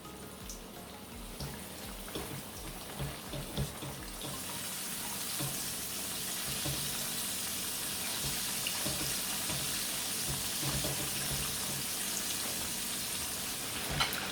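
Floured, marinated beef slices fry in hot oil in a kitchen, with a steady hissing sizzle that jumps louder as the meat goes in and then holds at a constant crackling level.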